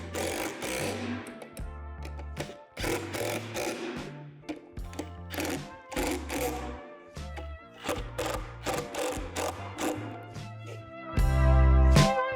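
Hardware is tightened while a Lifetime double-bin rotating composter is assembled, with repeated loud, buzzing mechanical bursts from a driver, each lasting about a second and separated by short pauses, ending in a longer, heavier burst.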